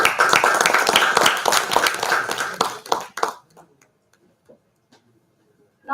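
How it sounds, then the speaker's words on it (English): Audience at a university course session breaks into a round of dense, loud clapping that fills the first three seconds, then cuts off sharply, leaving near silence with a few scattered late claps. "Now give a big round of applause for Satyavan Baroda sir."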